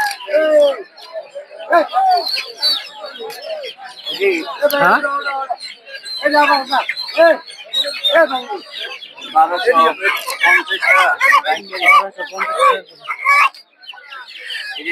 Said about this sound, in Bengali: এদিকে দেশি মুরগিও পাওয়া যায়।